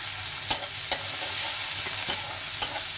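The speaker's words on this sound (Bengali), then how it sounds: "একই প্যানের ভিতরে দিয়ে দিচ্ছি আমি পেঁয়াজ কুচি।" Chopped onion sizzles steadily in hot oil in a pan just used for frying potatoes, with a few sharp spatula scrapes and knocks against the pan at irregular moments; close and alone, with no talking.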